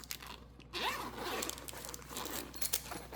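A zipper being pulled on a soft pistol case with a zipper pocket, a close, crisp rasping run lasting a couple of seconds with small scratchy handling noises.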